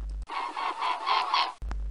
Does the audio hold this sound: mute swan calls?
yes